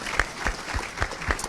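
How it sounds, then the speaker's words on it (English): Scattered audience clapping at a university open house industry panel, a few distinct claps with a light, sparse rhythm. "you should all clap for her."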